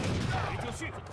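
Musket volleys firing at janissaries in the strategy game Age of Empires 3 Definitive Edition, a dense, loud crackle of overlapping shots filling the moment, with a voice talking underneath.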